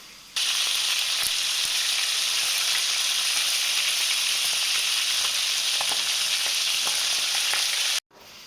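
Chicken pieces frying in a pan for Georgian chakhokhbili, a loud continuous sizzle with small pops, running steadily until it cuts off abruptly near the end.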